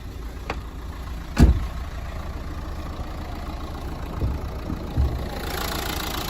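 A Renault Megane 1.5 dCi diesel engine idles with a steady low rumble and faint knocking rattle, punctuated by a few nearby thumps and clicks.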